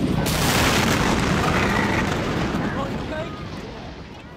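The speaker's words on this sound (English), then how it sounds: "approximately 30 tons of the stored ammonium nitrate detonated, causing a massive explosion." A deep, rumbling blast of about 30 tons of ammonium nitrate exploding at a fertilizer plant in West, Texas, with a roaring wash of noise that slowly fades away, loud and heavy throughout.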